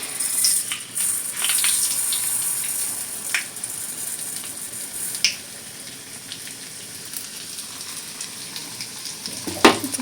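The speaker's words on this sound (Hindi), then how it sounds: "ये मैंने घी गर्म कर लिया, अब इसमें मैं दलिया डालती हूँ।" Broken wheat (dalia) frying in hot ghee, a steady soft sizzle with a few sharp crackles and spoon clicks, fairly close and moderately loud with no talking.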